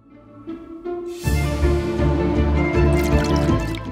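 Water pours and splashes steadily into a container of instant papier-mâché (Celluclay) mix, starting quietly with a few drips and then becoming a continuous close pour.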